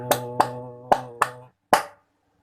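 Indonesian scout rhythmic clapping known as tepuk pramuka: five sharp claps in a patterned rhythm, two close together, a short gap, two more, then a final clap after a pause, with a faint tonal background hum.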